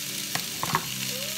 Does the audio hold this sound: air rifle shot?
no